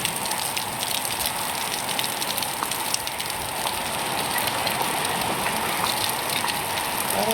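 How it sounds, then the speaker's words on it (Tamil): Heavy cyclone Fengal rain pours down outdoors, a dense, steady hiss of drops hitting surfaces that holds evenly for several seconds with no voices over it. "மழை கொஞ்சம் விட்டு விட்டு பெய்யுது"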